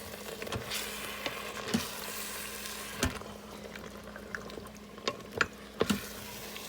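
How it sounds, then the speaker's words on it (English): Ground turkey meat sauce with tomatoes cooking in a pan, a soft steady bubbling and sizzling with scattered pops and occasional clinks, fairly quiet with no talk. "our turkey meat is cooking right now with all the ingredients"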